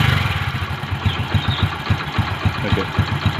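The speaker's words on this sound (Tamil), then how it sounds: "இது செல்ஃப் மோட்டர் சவுண்டு இது." A motorcycle engine idling after an engine flush, a steady close chugging rumble with even rhythmic pulses and no talk.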